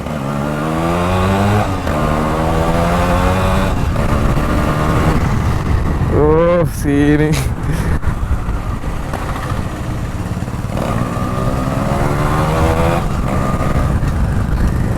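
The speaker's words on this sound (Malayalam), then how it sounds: "വണ്ടീൻ്റെ ഒരു ശബ്ദം നോക്കിക്കേ" A Yamaha RX 135 two-stroke motorcycle engine revs loudly and close up, with repeated rising throttle blips and a sharp climbing rev in the middle, over a steady idle, while a person speaks briefly.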